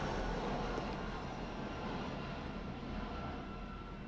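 A propeller aircraft passing overhead inside the game The Stanley Parable, a steady broadband engine drone with low rumble that holds loud and even through the whole moment, slightly easing toward the end, with no talking.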